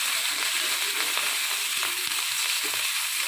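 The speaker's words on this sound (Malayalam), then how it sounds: "ഉള്ളിയും മുളകും കാന്താരിമുളകും കറിവേപ്പിലൊക്കെ കൂടി ചതച്ച് അതങ്ങോട്ട് അതങ്ങോട്ട് നന്നായിട്ടൊന്ന് മൂക്കട്ടെ" Crushed shallots, chillies, bird's eye chillies and curry leaves fry in hot oil, sizzling loudly and steadily without pause, close up, with small crackles and pops scattered through the hiss.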